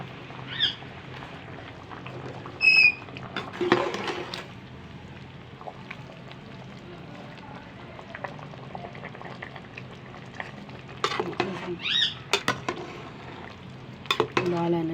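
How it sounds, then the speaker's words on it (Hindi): Covered pot of mutton pulao on the stove, water beginning to boil with a low steady bubbling and simmer hiss, broken by a few louder clinks of lid or utensil near the start and end. "उबाल आना शुरू हो गया है।"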